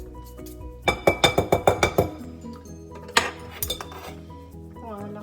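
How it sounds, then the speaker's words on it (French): Spoons are scraped clean of gluten-free, lactose-free almond cake batter, giving a quick series of about seven bright metallic clinks close by, then a few scattered knocks and scrapes, with a brief word spoken. "Je nettoie mes cuillères. J'enlève toute la pâte."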